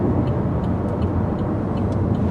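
A 2012 Chevy Volt electric car accelerating, heard from inside as a steady low road and motor rumble with faint ticking, no speech over it.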